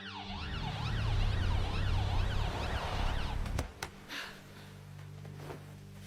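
Ambulance siren wailing loudly in a rising and falling pattern, then cutting off abruptly partway through, leaving a few scattered thumps and quieter background.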